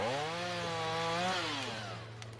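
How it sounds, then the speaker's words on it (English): A chainsaw runs loud and steady close by, its engine pitch rising and falling as it cuts through wood in what should be a quiet ceremonial spot, easing off toward the end. "They brought in chainsaws."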